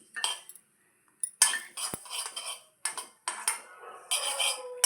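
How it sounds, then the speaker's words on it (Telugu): Sesame seeds are roasted and stirred in a heated pot, with bursts of scraping and clinking from a spoon against the metal, broken by short pauses. "గిన్నె వేడెక్కిందండి. నువ్వుపప్పు బాగా ఎర్రగా వేపుకుందామండి."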